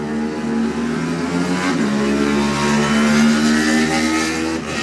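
A Honda classic racing motorcycle from the Davies Motorsport team pulls away at the Junior Classic TT race, its engine revving loud and close in a steady rising howl through the gears, no voices over it.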